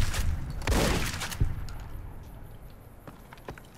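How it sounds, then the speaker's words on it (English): Gunfire from the Fallout: New Vegas game is aimed at flying bugs. A few loud shots sound early, then sparse clicks and thuds trail off into quieter background. "So I'm shooting these bugs and I'm breaking their wings."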